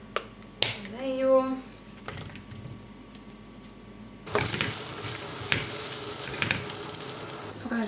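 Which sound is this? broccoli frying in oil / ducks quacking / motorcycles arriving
broccoli frying in oil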